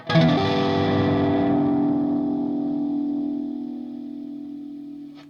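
An electric guitar chord rings through pedalboard distortion, struck once loudly and left to sustain, slowly fading over several seconds with a thick, saturated tone.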